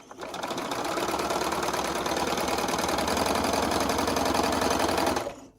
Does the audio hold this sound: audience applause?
no